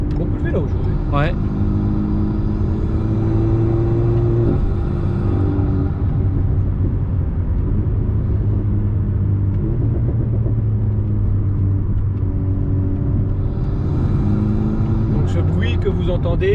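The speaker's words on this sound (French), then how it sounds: "Que vous entendez, c'est le bruit d'admission direct qui est à gauche de l'oreille du pilote" Alpine A110 Stage 2 on the move, its direct intake next to the driver's ear giving a steady low engine drone and rumble from inside the cabin, with occasional people talking over it.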